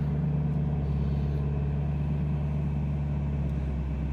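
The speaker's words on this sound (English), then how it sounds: "I guess we'll put it in drive and bring this thing out of the garage for the first time in 4 months" A flood-damaged Chevrolet Camaro ZL1 engine running steadily at a low idle, a loud, deep, even rumble with a constant hum and no breaks.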